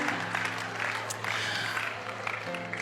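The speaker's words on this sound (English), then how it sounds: "I think that deserves another round of applause." An audience applauds steadily after a talk about how a man met his wife, a dense, continuous clapping with a few cheers.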